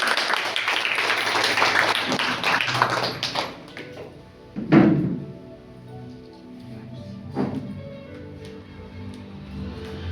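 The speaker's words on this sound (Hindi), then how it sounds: "हम प्रभु के दास का ताली बजाकर स्वागत करें" A church congregation claps to welcome a preacher: a dense patter of applause that thins and fades after a few seconds, leaving a few isolated claps and quiet room sound.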